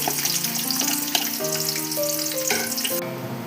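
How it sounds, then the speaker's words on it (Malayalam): Onions fry crisp in sunflower oil and ghee for Thalassery mutton biryani, a steady close sizzle with stirring, while background music with sustained tones plays throughout and cuts off near the end. "ഇത് നമുക്ക് സവാള ഒന്ന് ഫ്രൈ ചെയ്തെടുക്കണം"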